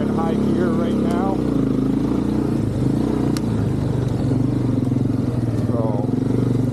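A four-wheel-drive ATV quad runs steadily in high gear, its engine droning loud and close throughout, with people talking over it.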